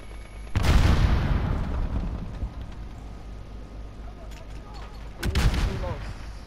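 Cruise missile explosion striking the player in Call of Duty: Modern Warfare: a sudden, loud, close blast with a long rumbling decay, then another sharp burst of impacts a few seconds later.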